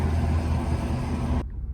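A rusty auction GMC 2500 pickup with a 6.0 engine rumbles loudly and steadily up close while reversing, then the sound cuts off abruptly near the end, leaving a quieter low hum.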